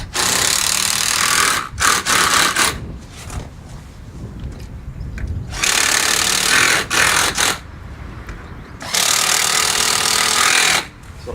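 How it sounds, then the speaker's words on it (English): Impact driver sinking brass screws into wood, with three loud, sustained bursts of whirring and hammering separated by quieter gaps of handling noise. "I generally eye 2 or 3 of the screws in and then impact driver"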